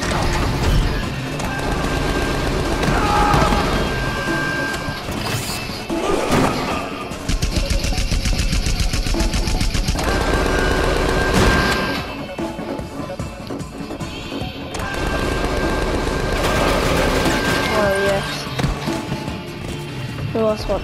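Gunfire in the video game Tales from the Borderlands, a busy rattle of rapid shots and impacts layered over game music and effects, loud and continuous, with characters talking throughout.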